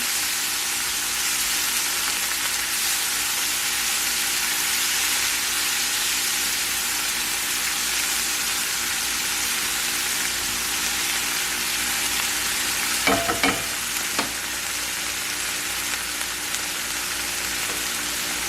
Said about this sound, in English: It was some sweet peppers from my garden, and also some jalapeno peppers. And I'm just going to let these cook down